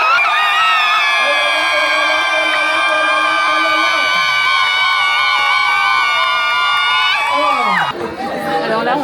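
Wedding guests shrieking and cheering together during a party game, a sustained loud burst of high-pitched joyful shouts from a crowd that fades and breaks apart near the end.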